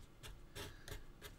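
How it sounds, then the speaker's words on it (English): Steel chisel shaving wood on a carved dragon, four short rasping cuts spaced roughly evenly, close and fairly loud over a low room rumble, no talking. "Now this is one set of chiseling I wouldn't be doing towards myself."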